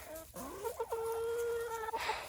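Chickens cluck in a backyard coop run, a few short, close calls and a drawn-out squawk from a single bird, fairly quiet against faint background noise.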